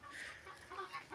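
A Japanese-breed hen clucks in short, close bursts, a few quick calls spread over a brief moment against faint background noise.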